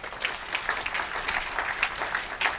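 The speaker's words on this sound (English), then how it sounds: "Can we have another round of applause for Dr." Audience at a malignant mesothelioma medical symposium applauding, a dense, sustained patter of many hands with individual claps popping out, moderately loud and steady throughout.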